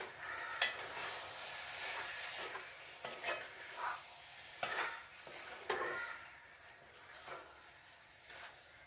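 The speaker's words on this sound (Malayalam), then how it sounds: "ഇതിനകത്ത് നല്ലപോലെ ഇളക്കി ഇളക്കി യോജിപ്പിക്കണം" Beef olathiyathu is stirred in a hot pan, a spoon scraping and turning the pieces in uneven strokes with soft sizzling between them, close and fairly quiet, with no talking.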